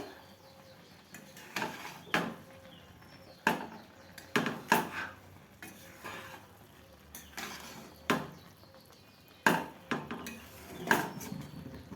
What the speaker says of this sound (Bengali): আমি একবার মাঝে ঢাকাটা খুলে দেখছি কেমন হয়েছে, একবার নাড়াচাড়া করে দিতে হবে।